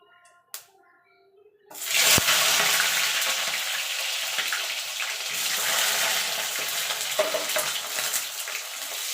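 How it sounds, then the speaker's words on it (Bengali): Brinjal slices drop into hot oil after a near-silent start, setting off a loud, dense, bubbling sizzle that carries on steadily to the end, close by, with no voices. "বেগুনটা খালি ভেজে তুলে নেবো তেলটা ভালো করে গরম করে কিন্তু বেগুনটা দিতে হবে"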